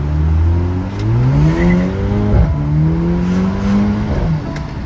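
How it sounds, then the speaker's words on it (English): Mercedes-Benz SL 43 AMG accelerating hard, engine note climbing through several gear shifts with brief dips between them, loud and close with no talk. "Let's see how it accelerates."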